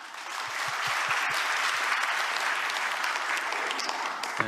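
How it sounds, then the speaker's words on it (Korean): An audience applauds steadily at a Korean government briefing on the five-year national policy plan, a dense, even clapping that swells quickly and holds for several seconds with no talking over it. "박수 부탁드립니다."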